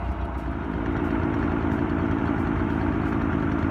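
A tractor engine runs steadily during log skidding while clearing land, a loud, even low rumble that holds without change for the whole stretch, close by with no voices.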